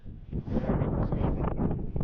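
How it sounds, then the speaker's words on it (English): Strong winter wind buffets the microphone in a continuous low roar on a Yellowstone snow coach tour, gusting and rumbling for the whole moment without any voices. "It's real windy going back this way"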